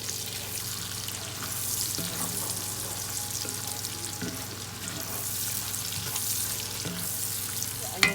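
Onions sizzle steadily in a pan with bacon and cabbage, a close, continuous frying crackle with occasional soft knocks of stirring, no voices.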